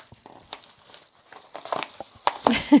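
A mailed package being opened by hand, with a plastic Ziploc bag crinkling in short, irregular bursts that grow louder and closer toward the end.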